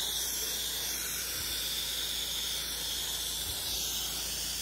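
Pressure sprayer running through a downsized nozzle on a 3 to 7 gallon unit, producing a steady, loud, close hiss of spray that continues without a break.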